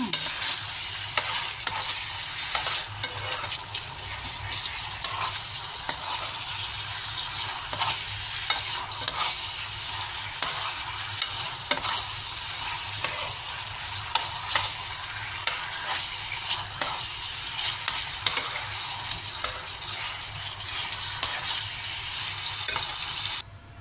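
Chicken wings in a spicy barbecue sauce sizzle steadily in a pan for the whole stretch, with brisk stirring scrapes and clicks popping out of the constant frying hiss.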